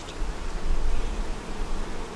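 Dense, steady buzzing of honey bees from an overflowing hive with a top box full of brood, a loud continuous close drone without pauses or voices.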